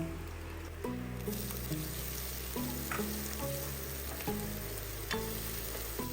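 Garlic and onion sautéing in hot cooking oil for Kapampangan-style palabok sauce: steady close sizzling and frying throughout, with periodic clatter and scraping from stirring in the pan.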